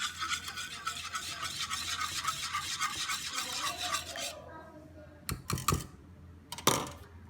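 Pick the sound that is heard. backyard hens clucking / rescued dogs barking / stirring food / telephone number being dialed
stirring food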